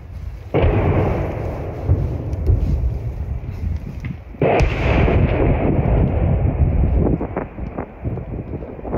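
Gunfire and artillery in a war zone at Bakhmut: two loud, sudden bursts of shooting, each followed by sustained rumbling and crackling with wind noise, heard nearby and without speech.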